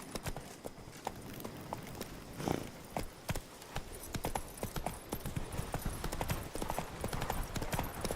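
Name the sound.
hoofbeats of the horse Roach, from The Witcher video game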